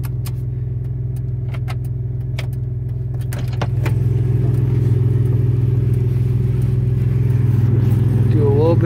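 A 2000 Chevrolet S10 pickup engine with an exhaust leak idles steadily, then swells into a louder, sustained rev partway through, close and loud, with clicking and jingling nearby and some talk over it.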